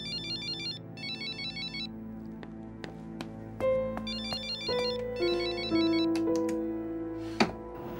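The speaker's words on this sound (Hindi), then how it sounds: "करती रहो कॉल, कोई नहीं उठाएगा तुम्हारा फोन।" A mobile phone rings unanswered, its electronic ringtone repeating in bursts over a melodic tone sequence with short taps and clicks, ending in a sharp hit near the close.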